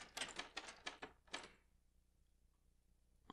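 Typewriter clattering in the horror game Don't Knock Twice, a quick run of about half a dozen sharp mechanical key strikes, fairly faint, followed by near silence.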